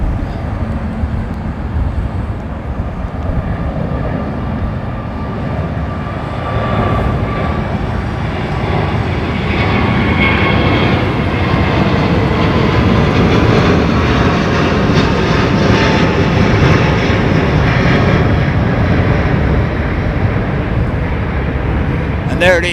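A heavy jet airliner at Heathrow Airport produces a loud, steady, broadband roar that swells slightly midway and holds for over twenty seconds, with people talking over it.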